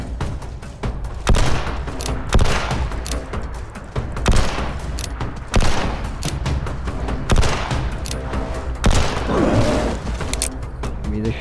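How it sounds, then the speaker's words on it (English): Pistol fire in the video game Fallout 76 rings out as a string of sharp, loud shots at uneven intervals over a busy in-game background, with several bursts close together. "Pistol."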